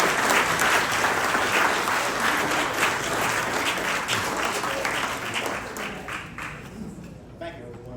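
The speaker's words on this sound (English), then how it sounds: "I hope we can get a round of applause for James" A crowd at a Cuyahoga Valley Republicans meeting applauds loudly and steadily for a speaker, the clapping thinning and fading toward the end, with a few voices mixed in.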